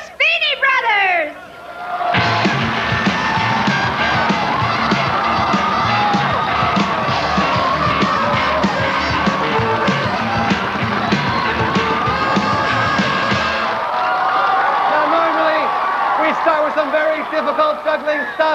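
A spring break comedy club crowd roars with cheers, whoops and applause for the Raspyni Brothers jugglers, loud and sustained for about ten seconds before fading into scattered shouts, after a brief announcer's voice.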